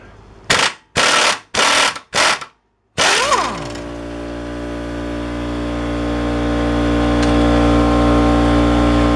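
A ratchet with a regular socket loosens the front bolt on a Polaris Sportsman ATV in four quick, loud bursts of close rapid clicking separated by short pauses, followed by a steady low hum that slowly swells.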